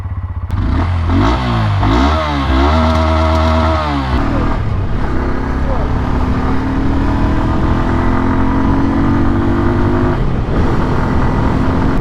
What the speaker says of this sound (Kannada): ಬನ್ನಿ ಗಾಡಿ ಓಡಿಸೋಣ ಓಡಿಸೋದಕ್ಕೆ ಈ ಗಾಡಿ ಹೇಗಿರುತ್ತೆ ಅಂತ